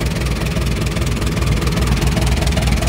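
A Japanese-made Kubota M6970 tractor's four-cylinder engine runs with its hood grille open, giving a loud, steady, close-up rumble with no pauses.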